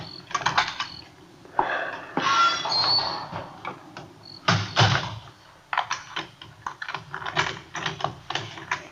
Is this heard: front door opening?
yes